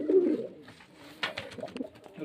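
A pair of biscuit-coloured pigeons coo in low, soft throaty calls at the start and again at the end, close by, with scattered light clicks and rustles in between.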